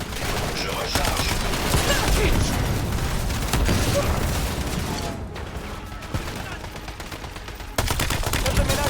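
Sustained automatic gunfire in the video game Black Ops 7 rattles in dense bursts for most of the stretch, with a brief lull near the middle before shooting resumes loudly at the end.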